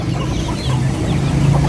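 Chicks for sale at the Sunday Bazar in Shalimar Bagh cluck and cheep continuously, close and fairly loud, with the low hum of market noise underneath.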